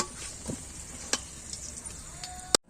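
Hot oil in a frying pan, used to cook meat with onions and spices, gives off a faint, steady sizzle. A few sharp clicks and taps break in, and the clip ends on a louder clatter.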